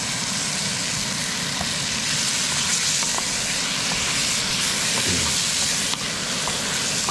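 Lobster frying in olive oil outdoors, a dense continuous sizzle and hiss that stays steady throughout, close and fairly loud, with no talking.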